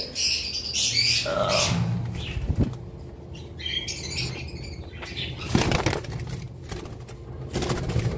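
Caged pet birds, including a breeding pair, beat their wings in bursts of flapping close by, with occasional squawks and chirps mixed in and no talking.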